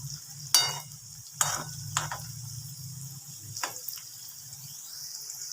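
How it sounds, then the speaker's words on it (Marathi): French fries fry slowly in hot oil, producing a soft continuous sizzle punctuated by a few sharp splashes and stirring clinks, close and moderately quiet. "आता टाकायचं आहे आपल्याला एकदम स्लोमध्ये व्यवस्थित फ्राय करून घ्यायचे आपल्याला छान"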